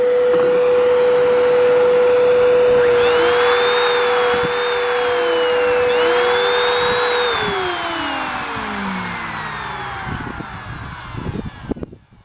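A Kenmore vacuum cleaner runs loudly up close with no hose attached, a steady high motor whine with shifting pitch that winds down near the end into clunks and handling sounds.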